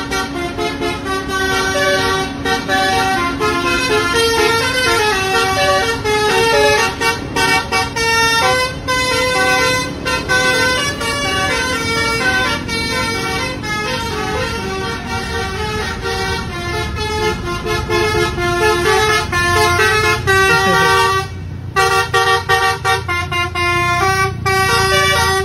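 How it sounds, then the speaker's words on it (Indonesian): Indonesian intercity buses, including STJ Draka units, roar past loudly while their multi-tone horns blare almost continuously in melodic, repeating toots, with heavy engine rumble underneath. "Wah, yang ini ada bus STJ Draka teman-teman."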